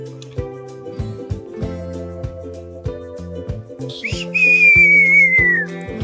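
A person's long, clear descending whistle signalling a horse rings out over a busy rhythmic background of music and thumps, following a couple of short chirpy whistle notes.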